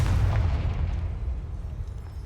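A deep booming blast from the Confringo fire spell in the Hogwarts Legacy video game, a loud low rumble that swells at once and slowly fades over a couple of seconds.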